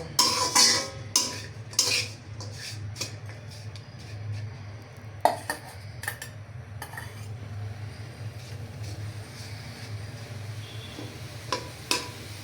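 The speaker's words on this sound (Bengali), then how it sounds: "প্রথমে আমি নারকেলটা ভাজা নিব" Grated coconut and jaggery fry in a pan while a utensil stirs and scrapes them, with close clinks against the metal and a soft sizzle throughout. The clatter is busiest at the start, then settles into a steady low hiss.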